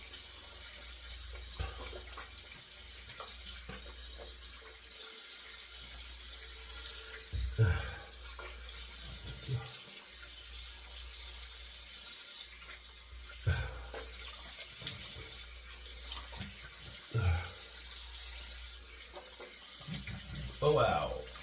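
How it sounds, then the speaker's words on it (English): A bathroom faucet runs steadily as a face is rinsed after a shave, a continuous wash of water with intermittent splashing bursts, close and fairly loud throughout. "Let's rinse that. Rinse our face."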